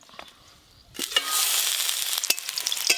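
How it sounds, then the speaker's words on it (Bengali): Bitter gourd slices frying in hot oil, a quiet pause then a loud, steady sizzle bursting up with sharp crackles and spatters, close and alone. "করলাগুলো ভালো করে ভাজা হয়ে গেল,"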